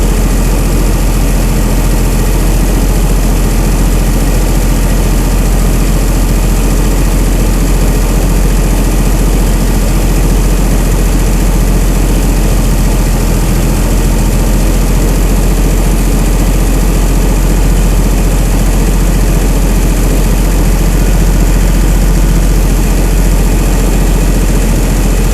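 A Chrysler Slant 6 generator engine fitted with Holley Sniper EFI idles continuously, a loud, close, steady low drone with an even rumble that never changes, and no voices.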